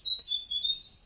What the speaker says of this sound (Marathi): इकडे चिमणीचे पिल्लं आहेत 4.